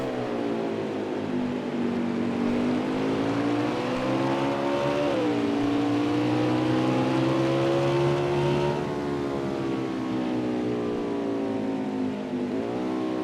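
Engine of a Winston Cup stock car at Canadian Tire roars from an onboard camera, a loud continuous drone whose pitch rises and dips through shifts and corners, with no voices over it.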